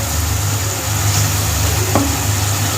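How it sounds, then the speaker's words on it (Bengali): Prawns frying lightly in a spice paste, a steady soft sizzle over a low rumbling hum, continuous and close with no voices. "মাছটা হালকা একটু কষিয়ে নেব।"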